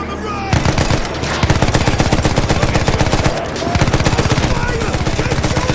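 Rapid automatic gunfire in the video game Battlefield 1, loud sustained bursts of machine-gun fire with a short break midway, dense and close throughout.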